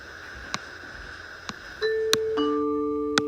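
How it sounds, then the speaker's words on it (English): A doorbell in a Toca Boca video game rings with a clear two-tone chime, preceded by a few soft clicks, ringing out near and loud. "I definitely just heard the doorbell"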